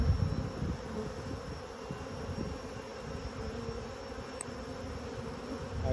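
Honey bees from a hive under inspection hum in a steady, dense drone that stays close and even throughout, with no talking.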